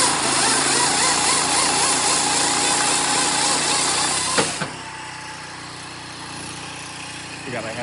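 A Pro LP firewood processor runs steadily on a single-stage hydraulic pump, its dense mechanical drone loud and continuous, with a sharp clunk midway before the tone drops to a lower, quieter hum.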